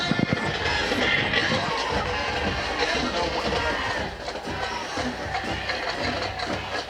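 Football stadium crowd at a high school game, Oakwood at Valley View, a steady roar of cheering and chatter filling the whole stretch, with an announcer's voice over it.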